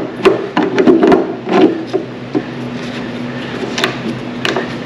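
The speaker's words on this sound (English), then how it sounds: "Okay, I'm going to put the lid back on." The lid goes back onto a rusty 1982 Honda CB750F gas tank, making close, loud clunks and scraping knocks of metal on metal in a few quick bursts, then quieter taps.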